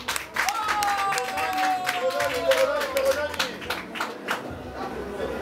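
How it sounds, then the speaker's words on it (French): Clapping from an audience for journal editor Linda Opango, spread across a crowd with chatter and a speaking voice layered over it, steady and moderately loud throughout. "Nous vous demandons de l'applaudir."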